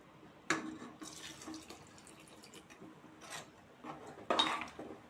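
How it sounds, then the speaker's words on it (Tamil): Water poured from a cup into a small mixer grinder jar in a home kitchen, quiet splashes and a couple of clinks against the jar, with soft gaps between pours. "இதுக்கு தேவையான ஒரு கப்பு தண்ணி சேர்த்திக்கோங்க இந்த மிக்சி சின்ன ஜார் தான்"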